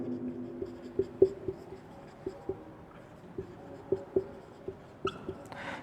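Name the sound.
writing on a board during a math lesson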